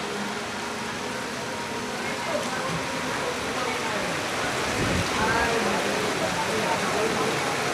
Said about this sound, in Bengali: কাল বৈশাখী ঝড়ের মতো বৃষ্টি আসতেছে